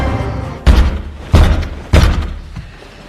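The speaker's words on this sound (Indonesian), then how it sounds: "dengan garang sang monster mengetuk pintu kamar Belle" A monster knocks fiercely on a bedroom door as a story sound effect: three loud, heavy thuds about two-thirds of a second apart, followed by a fainter fourth, with nothing else heard.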